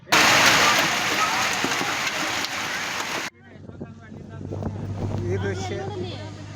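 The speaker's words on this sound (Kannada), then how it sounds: "ಆಲಿಕಲ್ಲು ಸಹಿತ ಮಳೆ ಆಗಿರೋದು." Hailstorm with heavy rain in Haveri, a loud dense broadband roar of pelting rain and wind for about three seconds, then a quieter patter of falling hail and rain with a low background hum.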